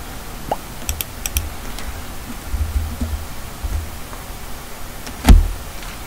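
Soft computer mouse clicks tick sparsely while playing Roblox, a few small isolated taps over a quiet hissy background, one louder thump near the end.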